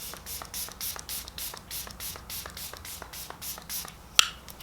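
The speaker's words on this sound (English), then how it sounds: "Now for some setting spray." Face setting spray is misted in about a dozen quick, evenly spaced spritzes, close and soft, ending with a small sharp click.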